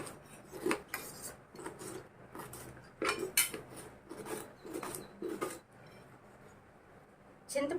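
Small onions sliced thinly with a knife on a board, a run of quick scraping cuts and taps that come in bursts with short pauses, close and fairly clear.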